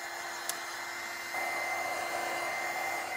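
A hair dryer blowing over a painted wooden box, a steady close airy whir that grows a little louder and stronger partway through, with a tiny click near the start.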